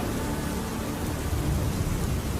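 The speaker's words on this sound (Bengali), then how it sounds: "মেঘ তুমি এবার তোমার বৃষ্টি দেওয়া বন্ধ করো" Steady, dense rain hisses without pause, a broad wash of noise with a low rumble underneath and no voices.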